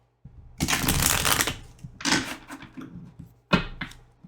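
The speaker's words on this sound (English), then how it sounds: "So we're going to shuffle some cards" Tarot cards are shuffled close by in quick riffling bursts, a long one followed by shorter ones, with light taps of the deck in between.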